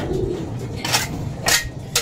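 Pigeons in a small home loft give soft, low cooing that repeats close by under a steady background, with a few brief brighter scrapes or clinks in between.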